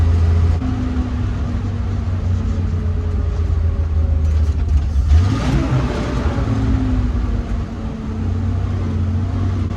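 A 1948 Dodge Power Wagon pickup engine drones steadily from inside the cab while driving, a loud low rumble that dips and rises once as the gears change midway.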